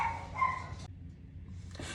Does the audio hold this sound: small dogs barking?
yes